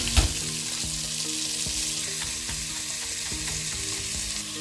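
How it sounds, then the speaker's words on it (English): Onions and crushed garlic cloves frying in a pan already used for searing mussels, a steady close sizzle with light stirring clicks scattered throughout and no talking. "So I'm going to add my onions."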